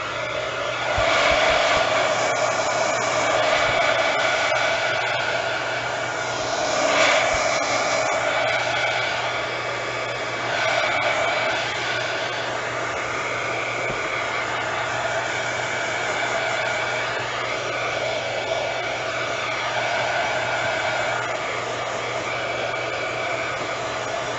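A heat tool blows hot air to dry a craft embellishment, a loud, steady whooshing hum that runs unbroken and nearly unchanged throughout.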